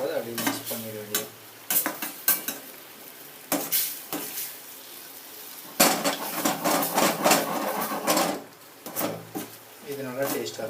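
A spoon stirs and scrapes in a pan as veg egg tomato gravy sizzles and bubbles at a boil, with clinks of metal and a person talking over it.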